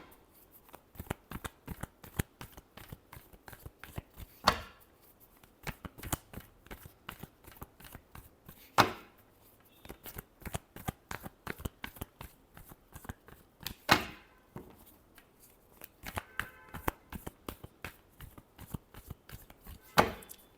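Tarot cards being shuffled by hand in a steady stream of crisp riffling flicks, close and fairly quiet, with a few louder slaps and brief pauses between bursts, no talking.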